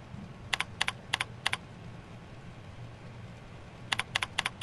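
Typing on a computer keyboard in short bursts of clicky keystrokes, a quick cluster at the start and another near the end, separated by a quiet pause over low room hum.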